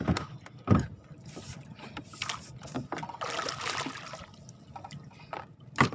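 A wooden paddle pulls through the water of Laguna Lake beside a fishing boat near Talim Island, giving scattered close splashes and watery swishes with soft knocks over about six seconds.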